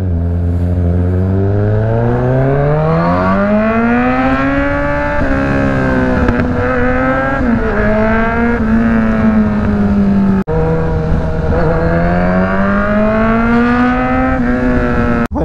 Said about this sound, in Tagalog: Welcome sa traffic dito sa Rosales,